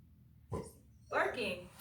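A pitbull gives two sharp, close barks about half a second apart, the second one louder and more drawn out, in a quiet room.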